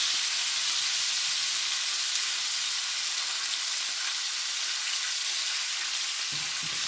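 Steak and potatoes fry in a pan with a steady, bright, dense sizzle that holds evenly and close throughout, with no talking.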